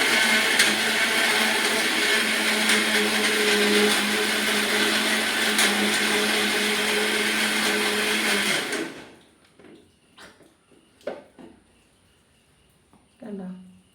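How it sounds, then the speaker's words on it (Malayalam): An electric mixer grinder blends tomatoes with a loud, steady whirring motor drone for about nine seconds, then cuts off abruptly, leaving quiet kitchen clatter and a brief voice. "ഗ്രൈൻഡ് ചെയ്യാം. മിക്സിക്കകത്തൊന്ന്"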